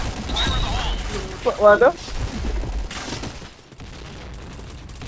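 Bursts of rapid gunfire from a shooting video game played in an internet cafe, a sharp volley cracking out near the middle while players talk excitedly over the action.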